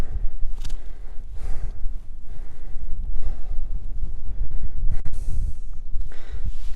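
Strong wind roars and gusts across the microphone for several seconds at a wild camp on Buachaille Etive Mor, a heavy low rumble that swells and eases with no voices.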